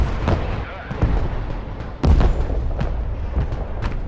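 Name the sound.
explosion in the Broken Arrow video game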